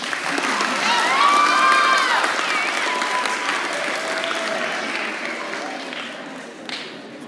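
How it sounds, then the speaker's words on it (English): School audience applauds a seventh grade student council member, steady clapping mixed with cheers and children's shouts, loud at first and then easing off. "Clap for her."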